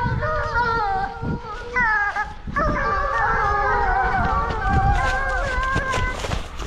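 A pack of hunting dogs bay and howl excitedly on wild boar scent in a boar training park, with layered overlapping voices forming a continuous loud chorus and sharper yelps breaking through.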